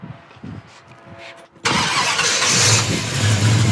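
A 1970 Plymouth Roadrunner with fuel injection and an air grabber hood cranks and fires, then settles into a loud, rumbling V8 idle close by, after a short stretch of quieter room noise.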